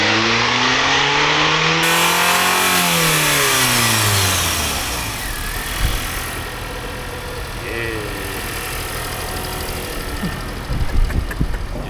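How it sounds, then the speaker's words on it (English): A Honda Prelude with a PLM downpipe and stock exhaust revs up and back down a couple of times, fairly muted, then settles into idle with a few faint blips and some talk. "keep in mind, this is stock exhaust, stock front pipe, so of course it's going to be muted because the factory system is very muted."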